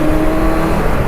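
A Kawasaki Versys 1000 motorcycle accelerates, giving a brief, loud, close engine roar with a steady growl and no voices.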